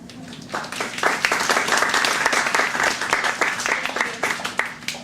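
An audience applauds to welcome a speaker at a science-academy talk in St. Louis, a dense, steady wash of many hands clapping that swells and holds for several seconds.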